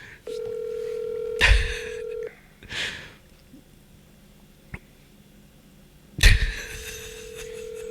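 Telephone call tones while waiting for someone to answer: a steady ring tone pulses on for about two seconds, then cuts off. Brief louder bursts break in, and a second ring begins near the end, fairly close and clear.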